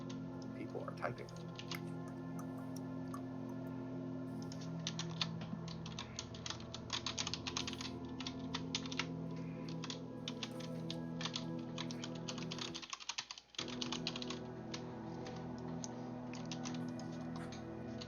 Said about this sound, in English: People are typing.